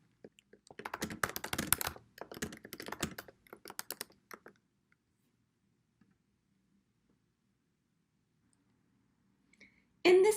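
Someone types on a computer keyboard into a search bar, a quick close run of clicking keystrokes in several bursts, then near silence before a brief louder sound at the end.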